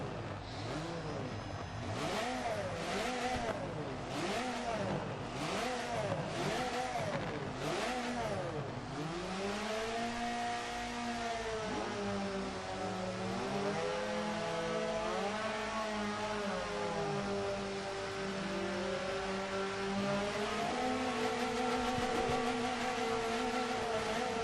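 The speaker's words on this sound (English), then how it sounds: "Revs are climbing. Getting ready here for race 3." Touring car engines from a racing video game rev and rise at the Watkins Glen short course start grid, rhythmic revving bursts giving way to loud sustained climbing engine tones, several cars layered together.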